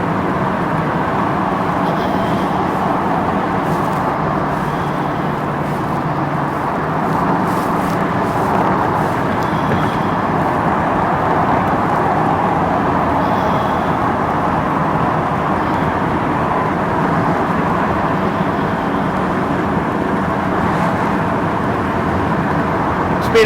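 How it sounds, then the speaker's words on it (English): A 1965 Ford Mustang 289 V-8 convertible cruising onto a northbound freeway, with steady engine drone and broad road and wind noise that stays constant throughout. "We're going up onto the freeway northbound now, so you get a chance to see how this thing runs and drives on the freeway."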